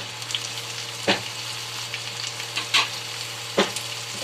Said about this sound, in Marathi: कांदा परतून झालेला आहे. आता टाकतो टोमॅटो